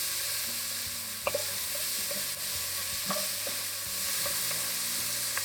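Garlic sizzles in a soup pot while a spoon stirs it, a continuous close frying hiss broken by a few clinks and scrapes against the pot, with a low hum underneath.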